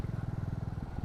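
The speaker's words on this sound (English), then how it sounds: "So I'm on a 1500 kilometer ride on my Super Meteor 650." A Royal Enfield Super Meteor 650 motorcycle on a long ride, its engine giving a steady, close, rapid low thumping pulse throughout the short stretch.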